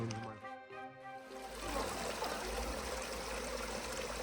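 Steady rushing water fills the scene, a broad continuous roar of falling water outdoors, loud and constant with some tonal sound fading early on.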